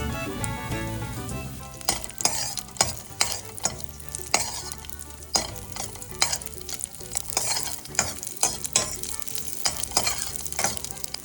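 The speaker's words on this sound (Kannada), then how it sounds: "ಮೊದಲಿಗೆ ತುಪ್ಪ ಹಾಕಿ ಎಲ್ಲ ಇಂಗ್ರೀಡಿಯೆಂಟ್ಸ್ನ ಫ್ರೈ ಮಾಡ್ಕೊಳ್ಳೋಣ." Ingredients frying in ghee for a Ganesha festival sweet, with steady sizzling broken by repeated sharp scrapes and clinks of a spoon against the pan, close and fairly loud.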